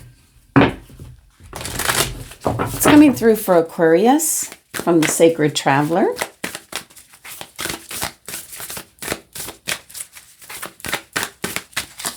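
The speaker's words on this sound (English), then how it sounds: "Let's give this a bit of a shuffle." Tarot cards shuffled by hand during a reading, a run of quick crisp riffling flicks after someone speaks, the rapid papery taps growing denser toward the end.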